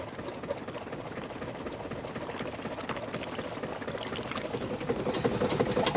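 A steamboat's steam engine runs steadily nearby, a fast, even mechanical clatter with a soft hiss like a sewing machine, growing slightly louder toward the end.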